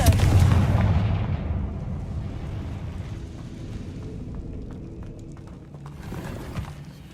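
In the Hogwarts Legacy video game, a Confringo fire spell goes off as a loud, heavy boom at the start, then a long rumbling decay that fades under a low background of game ambience.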